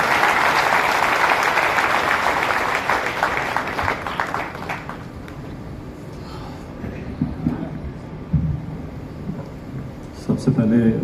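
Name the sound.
applause from the audience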